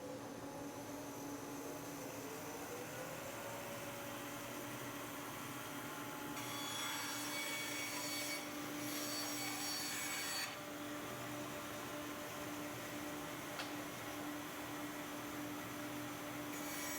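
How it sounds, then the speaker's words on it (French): A large band saw in a woodworking shop cuts a wooden plank, a steady motor hum with a rasping blade through the wood that gets louder in the middle of the cut and then eases off. "on va commencer par la grande scie à ruban qui me permet de débiter les planches."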